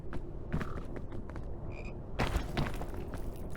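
A frog in the climbing video game PEAK gives a few croaks, interspersed with soft creaks and thumps of game activity, fairly close, with no one talking.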